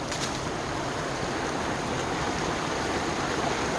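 A small runoff stream crossing a trail in the Alabama woods, flowing in a steady, close, full rushing wash of water with no break from start to end.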